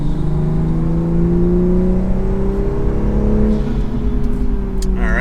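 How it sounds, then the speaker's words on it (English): A Toyota Supra in normal mode accelerates in third gear, its engine note rising steadily in a loud, sustained interior drone that climbs smoothly in pitch, with no talking over it. "Third gear acceleration."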